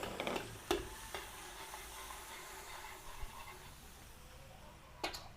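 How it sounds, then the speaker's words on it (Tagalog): Garlic sautéing in a pan for Filipino-style pork ribs, a steady soft sizzle with scattered clicks and scraping taps of stirring, moderately close and without talk. "Igisa na natin yung bawang."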